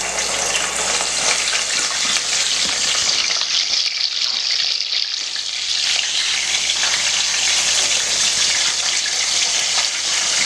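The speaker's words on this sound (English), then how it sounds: "then you put it back in the oil to finish frying" Pressed plantain frying in hot oil gives a steady, close, continuous sizzle and crackle, with no talk over it.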